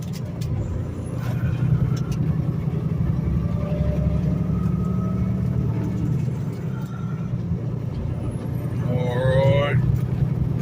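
A big rig truck's engine drones heavily from inside the cab, a steady low rumble that holds throughout with faint higher whines and brief sounds on top.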